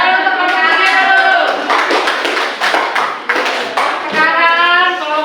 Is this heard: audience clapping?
yes